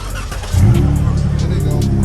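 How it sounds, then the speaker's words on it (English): Car engine revving through a Big Bose aftermarket exhaust at a custom car show: a loud, close, deep exhaust roar that swells sharply about halfway in and holds strong, with voices mixed underneath. "Ooh, that exhaust sound good, brother."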